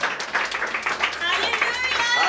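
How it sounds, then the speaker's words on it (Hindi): A congregation breaks into quick, scattered clapping at the opening of a prayer hall, fairly faint and mixed with voices. "तालियां, जोरदार तालियां।"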